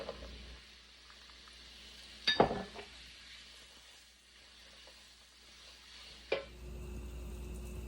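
Bacon and garlic sizzling in a pan for Cajun mac and cheese, a faint steady sizzle with a sharp clink of utensils near the start and another knock later.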